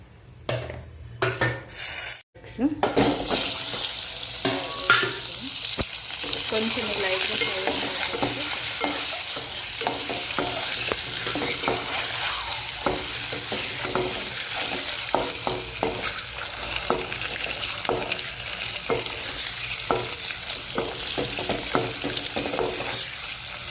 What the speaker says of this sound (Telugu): ఈ కారం పసుపు మాడకుండా లైట్గా అలా చేసేసుకొని ఇప్పుడు ఎగ్స్ వేసేసుకుందాం